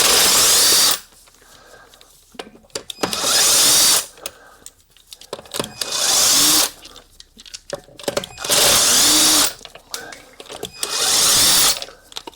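A power impact tool works on a car wheel during a tie rod replacement, firing in four or five loud, close bursts of a second or so each, separated by clanks and rattles.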